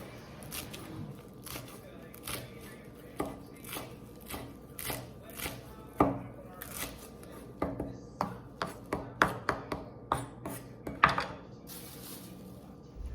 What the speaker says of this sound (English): this is normally where I cut up all my stuff, and I just put it right in there.